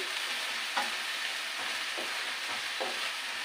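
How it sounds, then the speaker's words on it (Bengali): Vegetables fry in a pan on a gas stove, giving a steady close hiss of sizzling with a few soft scraping stirs every second or so. "আর এদিকে এটা একটু ভাজি করতে সময় লাগবে।"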